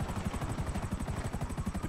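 An aircraft in GTA V Online flies close by with a steady, rapid rotor-like chopping throb that runs evenly through the whole stretch, with no talking over it.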